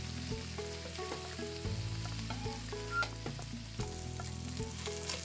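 Fish slowly pan-frying in a wok over medium-low heat, a gentle continuous sizzle of oil with occasional metallic clinks and knocks of the pan, close and fairly even, no voices.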